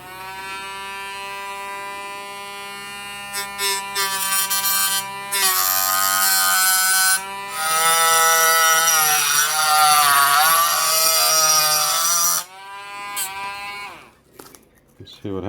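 A Dremel rotary tool cuts into the speaker cone of a 1946 STC 548 timber tube radio. The high-pitched whine runs loud and close in several long bursts with short pauses between them, and its pitch sags and shifts as the bit bites.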